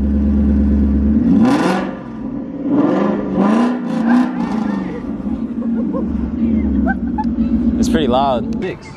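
A 2001 Cobra car engine runs steadily with a low, loud rumble and a few revving swells, while people talk over it close by.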